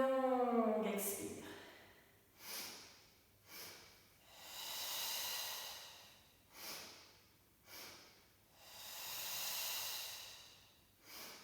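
Long exhales during a barre workout breathing exercise, a series of soft, airy breaths rising and fading in slow waves, with someone speaking briefly at the start.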